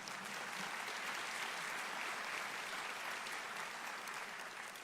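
Audience at a county government State of the County address breaks into sustained applause, a dense, even wash of many hands clapping that holds steady for several seconds with no talk over it.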